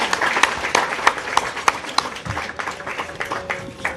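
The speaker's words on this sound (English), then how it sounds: "Can we give them another round of applause?" Audience applause rings out at a celebration of the Dalai Lama's 90th birthday, a lively spread of individual claps with sharp peaks that gradually thins toward the end.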